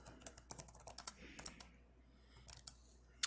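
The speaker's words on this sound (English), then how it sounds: "So I'm gonna try typing most of this." Fingers tap quickly on a computer keyboard during a math lecture, an irregular run of crisp clicks with a brief pause midway, faint and close.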